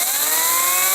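Ryobi electric chainsaw running, a loud steady high-pitched motor whine with a faint rising tone, brief and alone without talk.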